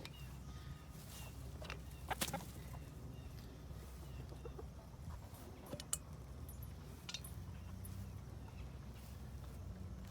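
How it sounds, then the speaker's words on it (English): Faint, scattered clucks and short chirps from chickens and chicks sit under a steady low background hum, soft and somewhat distant. "here's the chicken chicks"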